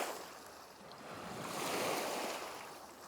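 Great Lakes waves washing onto a rocky shore, a steady broadband surf wash that swells in the middle with some wind rumble, no voices.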